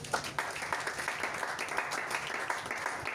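Church congregation applauding, a steady wash of many hands clapping at moderate distance, with a few louder individual claps standing out and faint voices mixed underneath.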